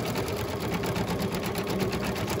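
An embroidery machine stitches a mug rug held in the hoop, giving a steady, fast mechanical whir with a fine repeating needle pulse, close and even throughout with no voices.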